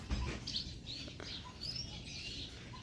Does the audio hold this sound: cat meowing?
no